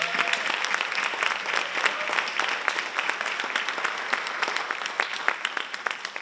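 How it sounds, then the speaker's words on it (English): Dense, steady applause from a school board meeting audience honoring bus drivers, with many close hand claps running throughout and no talk over it. "Please give them a round of applause"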